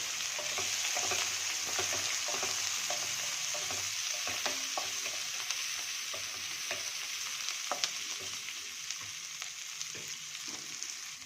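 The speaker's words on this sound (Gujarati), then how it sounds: "હવે આપણે નાખીશું એક મોટી ડુંગળી એને પણ આપણે સોતળી લેશું" Onion fries in oil alongside browned chana dal and urad dal for upma, a steady low sizzle with scattered soft stirring clicks throughout and no talk.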